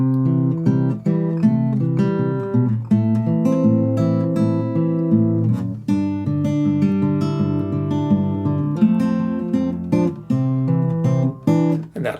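Fingerstyle acoustic guitar plays a song in an easy arrangement, with an alternating-thumb bass under a picked melody, steady and close with no talking.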